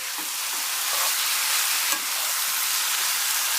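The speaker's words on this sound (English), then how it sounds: "I'm going to have to raise my voice because this stuff is so sizzling, so nice" Chicken sizzles loudly in a hot frying pan, a steady crackling hiss with occasional pops and stirring sounds close by.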